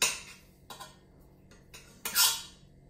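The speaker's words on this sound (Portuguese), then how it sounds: "Agora vou encher aqui a barriga da cavala com a ajuda de uma colher." A spoon scraping and tapping as stuffing is pressed into a mackerel's belly, a few short close scrapes and clinks in quick succession, the last one longest.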